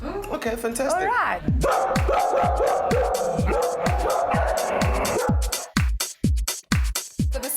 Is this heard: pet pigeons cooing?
no